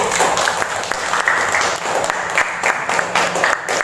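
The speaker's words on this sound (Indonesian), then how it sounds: "tepuk tangan dulu untuk Rizky" Classroom applause for a student after a group presentation, a small group clapping loudly and unevenly at close range in short bursts.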